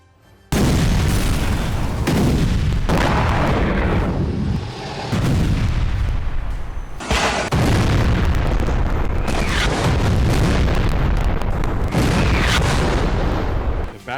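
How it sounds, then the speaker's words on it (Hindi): Rocket barrage launched from Gaza near a hospital, heard as a continuous roar of firing and blasts with repeated booming surges over about fourteen seconds, loud and close, with no talk. "A barrage of rockets was fired by terrorists in Gaza, passing in close proximity to the Al-Hali Al-Ma'adi hospital"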